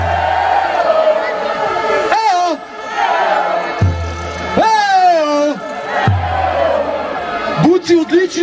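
Ski jumping fans at Planica in 2015 let out loud, drawn-out yells and whoops in repeated bursts. Many voices rise and fall in pitch close by, with crowd noise between the shouts.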